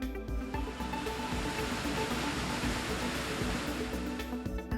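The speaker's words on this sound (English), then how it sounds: "Oh, the river overflowed. Water keeps flowing into the streets." Floodwater from an overflowing river surges into city streets, a steady, loud broadband rush of flowing water that holds constant without a break, with no voices.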